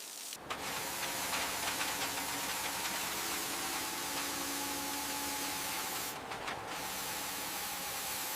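A pressure washer sprays grime off an old abandoned bus, starting at the bumper. The loud, steady hiss runs unbroken, with two brief dips as the spray shifts.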